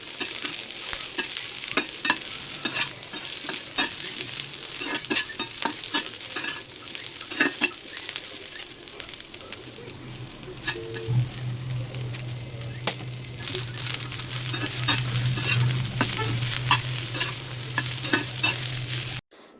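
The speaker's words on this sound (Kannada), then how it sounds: "ಮೊದಲು ನಾನು ಬೇಬಿಕಾರ್ನು ಮತ್ತು ಕ್ಯಾಪ್ಸಿಕಮ್ಮು, ಆನಿಯನ್ನು ಇಷ್ಟನ್ನು ಒಂದು ಸ್ವಲ್ಪ ಹೊತ್ತು ಫ್ರೈ ಮಾಡಿಕೊಂಡು" Baby corn, capsicum and onion stir-frying in a pan: a constant close sizzle under frequent clattering scrapes of a spatula, joined partway through by a low steady hum, with no one speaking.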